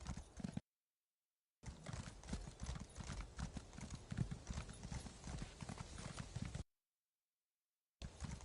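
Steady clip-clop of horse hooves at a brisk trot in Elder Scrolls Online, loud and close, cut by two short silent gaps.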